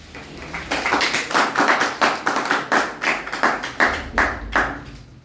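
An audience applauds a professor at an event with loud, close clapping that swells in rhythmic waves of strong, distinct hand claps, steady for several seconds with no talking.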